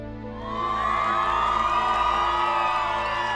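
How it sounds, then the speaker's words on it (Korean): Worshippers in a horror visual novel game cheer in a crowd sound effect that swells quickly to a loud, sustained roar of voices and whoops and holds steady to the end. "신도들이 박수를 친다."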